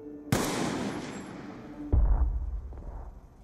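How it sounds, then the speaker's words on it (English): A single sharp headshot rifle shot in Call of Duty: Black Ops 2 cracks loudly and decays with a long echo, followed by a deep booming impact and a fading rumble. "Take the headshot."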